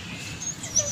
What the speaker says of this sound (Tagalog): Meron din mga aso.